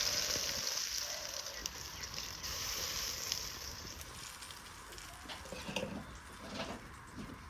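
Black pepper tempering in a hot, dry pan for mutton trotter curry gives off a steady, close crackling sizzle with a broad hiss that runs the whole time, with no talk over it.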